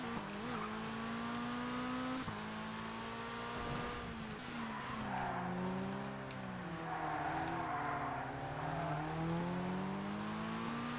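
A supercar's engine in ToCA Race Driver 2 bouncing off its rev limiter, a loud continuous drone that holds a steady pitch and wavers up and down, with tyre squeal mixed in.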